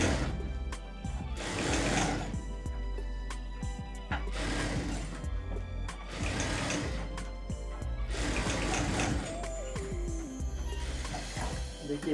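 Sewing machine stitching the hook strip of a simple blouse with a fine, short stitch, running in several long loud bursts with brief pauses, close by and continuous, with background tonal sounds and no clear talk.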